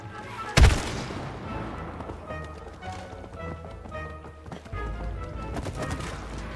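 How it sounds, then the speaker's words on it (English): Gunshots fired in It Takes Two, one sharp loud shot near the start followed by quieter taps and impacts amid game sounds and music. "You get close enough, shoot it."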